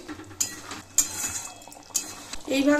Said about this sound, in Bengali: এবার সব কিছু ভালোভাবে মিশিয়ে দেব এইভাবে